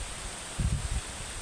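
Wind buffets the microphone in low, rumbling gusts over a steady rushing hiss, with a brief stronger burst in the middle.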